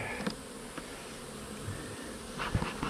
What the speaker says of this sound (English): I see some black bees. I see some yellow bees.